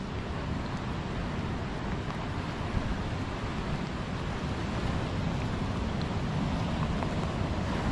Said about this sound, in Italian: Oggi il mare è bello incazzato